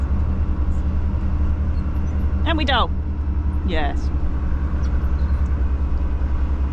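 Small lorry driving, a continuous low engine rumble with steady road noise throughout, as two short spoken remarks pass over it.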